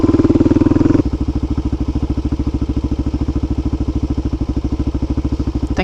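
A Suzuki DR-Z motorcycle engine idles close by with a steady, throbbing single-cylinder pulse. A louder, faster beat in the first second settles into an even chug that carries on alone to the end.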